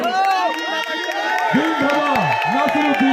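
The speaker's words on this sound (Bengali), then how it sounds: "সুন্দর একটা জোরে করতালি আরো একবার সবাই মিলে প্লিজ" A crowd claps and cheers at an outdoor horse race prize ceremony in Bengal, with applause running steadily under a loud announcer on an echoing public address system.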